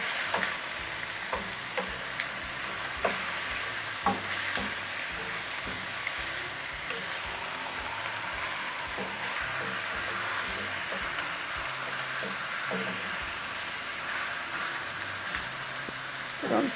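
Garlic sizzles and fries steadily in a hot pan for a Brazilian coconut-milk fish dish, with occasional stirring clicks over a continuous crackling hiss and no talking.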